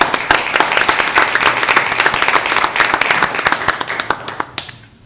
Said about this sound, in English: Let's give them a clap, please.